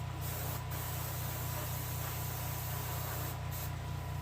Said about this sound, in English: I think I'm going to put another coat of base coat sealer on top of it.